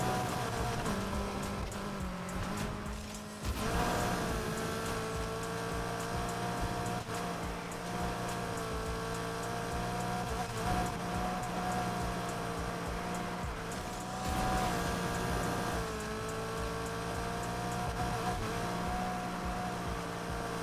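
Mitsubishi Evo 9 racing in Need For Speed Heat, a steady droning engine note that rises and falls through gear changes and cornering, loud and continuous for the whole stretch with no talk.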